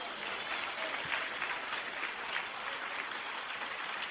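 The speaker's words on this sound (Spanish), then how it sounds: "Un aplauso al Señor." Sustained applause from a church congregation praising the Lord, a soft, even wash of many hands clapping at a distance with no voices on top.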